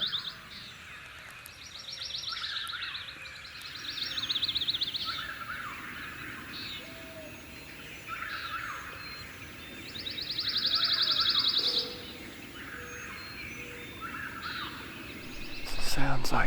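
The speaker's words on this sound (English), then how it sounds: "sounds like there's several birds gobbling over here." Several wild turkeys gobble in bursts from a distance on North Carolina public land, their calls coming in repeated rolling phrases between quieter stretches of outdoor ambience.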